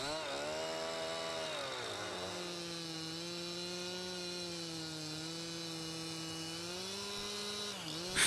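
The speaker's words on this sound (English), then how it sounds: "Saw towards the directional notch and leaving a breaking strip of even thickness" Jonsered chainsaw running at steady high revs through an insert cut in a tree trunk during corner felling, a loud, close, continuous buzzing whine that dips slightly in pitch as the bar bites, with no talking.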